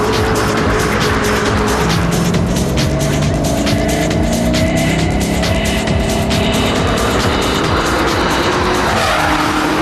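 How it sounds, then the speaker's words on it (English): A Ford GT40 super sports car driving hard, with loud engine revs rising and falling and repeated tire squeals and skids, close and continuous throughout. "This is the GT40 Ford, which is my first super sports car I ever bought."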